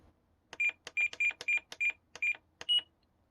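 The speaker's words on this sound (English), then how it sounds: "it's not a bad idea to have the trims making a sound" A quick series of short electronic beeps from a Spektrum E-flite RC transmitter trim switch, eight in a row at a similar pitch, then a final higher beep as the trim centers, close and clear.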